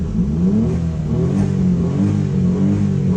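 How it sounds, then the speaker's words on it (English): A Daihatsu Mira street car launches hard with wheel spin, its small engine revving loudly and steadily close by through first gear. "Go Mira, wheel spin, wheel spin, wheel spin, all the way through first."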